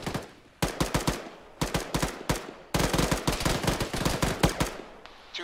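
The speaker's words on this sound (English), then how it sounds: "I just shot a lot of bullets" Rapid automatic gunfire in a military shooter game rattles out in several loud, close bursts, each a quick string of sharp cracks, separated by short pauses, with no talk.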